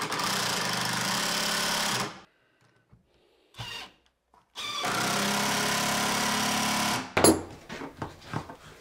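A power drill drives screws into a CNC machine's sacrificial spoilboard to clamp a workpiece, whirring loudly in two long bursts separated by a quiet gap, with short blips and some clatter at the end.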